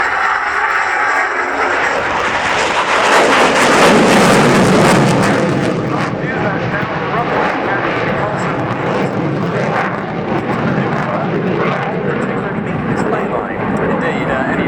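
A fast jet flies a landing imitation pass at an airshow, its loud roar swelling as it nears, then trailing off into a long, rumbling fade, with a commentator talking over it.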